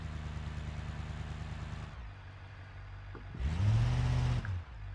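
A car engine in the driving simulator BeamNG drones steadily, drops off, then surges into a short, loud rev that cuts out again.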